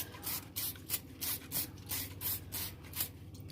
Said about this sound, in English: You're going to spray this.